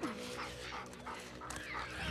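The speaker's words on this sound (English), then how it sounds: "Yeah, doggy." A dog in The Last of Us whimpers and yips softly at a distance, faint beneath the background game ambience, with a few brief vocal bursts across two seconds.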